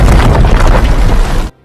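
An RPG rocket slams into a building in a film action scene, a loud, dense explosion that roars continuously for about a second and a half before cutting off abruptly.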